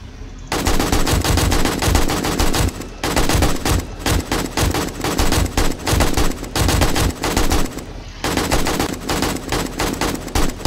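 Loud automatic gunfire from the video game 7 Days to Die during a horde night, rapid bursts ripping almost nonstop with a few short pauses between volleys.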